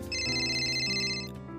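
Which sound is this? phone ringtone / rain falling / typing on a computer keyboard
phone ringtone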